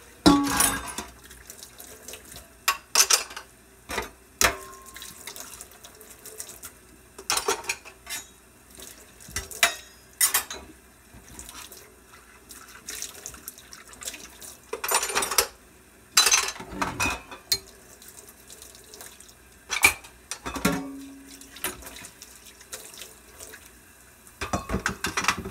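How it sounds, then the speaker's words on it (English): Dishes are washed by hand and utensils rinsed together under a running kitchen tap. The water splashes steadily close by, broken by repeated clatters of metal cutlery and knocks of dishes. "Utensils you rinse all together, dump it out a couple times so you get all the soap gone"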